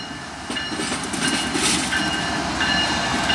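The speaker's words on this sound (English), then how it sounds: "switching and building their own train here at Walbridge, Ohio" Conrail freight train switching cars in the rail yard at Walbridge, Ohio, a steady close rumble of rolling railcars with faint wheel clatter and metallic ringing.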